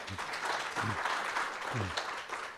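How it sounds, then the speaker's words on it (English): An audience at a governance dialogue in South Africa claps together, steady applause throughout with a few low voice-like murmurs underneath. "A round of applause, please."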